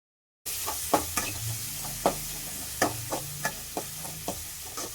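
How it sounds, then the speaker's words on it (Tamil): Onions for cauliflower kurma sauté in a pan with a soft, steady sizzle. Close spoon scrapes and knocks against the pan come every half second or so as the onions are stirred. "வெங்காயம் நல்லா வதங்கட்டும்."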